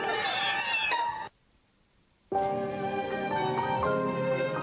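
Drawn-out cat meows in a 1996 French television advert for a flea treatment, a long wavering cry, a second of silence, then another sustained meow.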